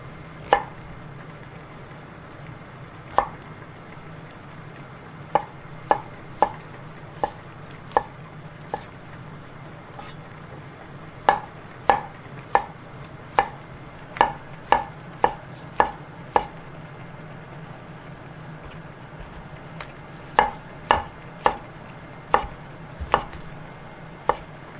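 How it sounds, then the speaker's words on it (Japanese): A knife slices shimeji and shiitake mushrooms on a cutting board, crisp distinct knocks falling in irregular bursts with pauses between, close and clear over a faint steady hum, no voices. "しめじは石突きを取り、しいたけも石突きを取って薄切りにします。"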